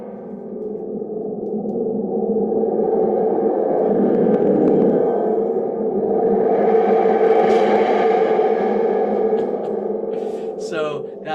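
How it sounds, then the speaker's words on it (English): A thunder tube, a spring drum, is played to make a creepy sound, producing a sustained warbling, echoing rumble with rising and falling swells over several seconds, close and fairly loud, with a brief rattle near the end. "So that's the thunder tube, it's called."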